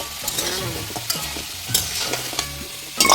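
Potatoes fry in a pan for a duck curry, a steady sizzle with repeated scraping stirs and clinks of a utensil against the pan, close and alone.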